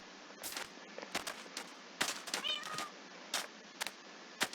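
A cat meows in Minecraft, a short, faint high call heard once amid scattered sharp clicks and bursts of game noise.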